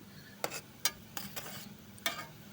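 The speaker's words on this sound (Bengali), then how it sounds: "আমি কিছুক্ষণ বেশ নাড়াচড়া করে নিলাম" A spoon stirring hibiscus leaves, a hibiscus flower and black cumin in a pan over low heat, giving a few sharp scraping strokes close by over a soft steady simmer, with no talking.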